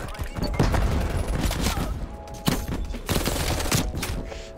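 Rapid bursts of FARA 83 assault rifle fire in Call of Duty: Black Ops Cold War, loud and near, with dense automatic volleys running throughout and a few sharper cracks standing out.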